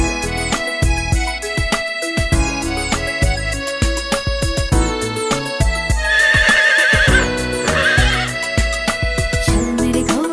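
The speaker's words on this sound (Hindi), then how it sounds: "चल मेरे घोड़े चल चल चल" A children's Hindi rhyme track about a galloping horse carries a cartoonish neigh and whinny along with rhythmic clip-clop hoofbeats, all woven into loud, busy music.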